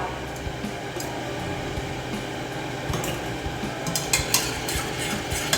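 Egg yolks with sugar and corn starch are stirred briskly in a bowl, a steady scraping, swishing rhythm with light utensil clicks, fairly close and quiet.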